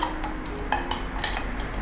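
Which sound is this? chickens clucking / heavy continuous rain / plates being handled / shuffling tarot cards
plates being handled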